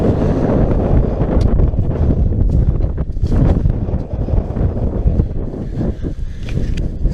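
Strong wind gusts across open, snowy moorland at Bloodybush Edge, roaring and buffeting the microphone in a loud, continuous rush that swells and dips, with no voices.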